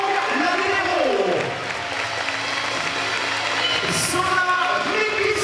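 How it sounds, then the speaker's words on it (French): Crowd applause and cheering fill a women's volleyball arena in Vannes during player introductions, a steady roar of clapping with an announcer's voice carrying over it. "Sous vos applaudissements, Laurent Lavillero."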